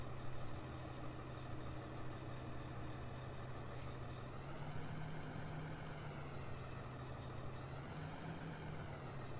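John Deere 5080R tractor engine in Farming Simulator 15, a steady low diesel drone running continuously with a slight pitch rise partway through, loud and close with no talk over it.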